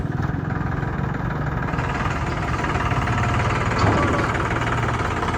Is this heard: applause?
no